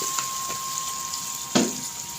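A little water goes into a hot pan of well-cooked garlic, producing a soft background sizzle with a couple of brief splashing bursts, one stronger near the end.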